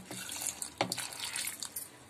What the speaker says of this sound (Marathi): आता मी यात पाणी टाकते